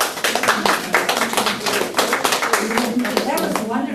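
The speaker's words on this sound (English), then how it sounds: "We'll give you another big round of applause at the end too." An audience claps warmly after Eve's talk about being a war bride, a lively round of many hands that holds steady, with a voice coming in near the end.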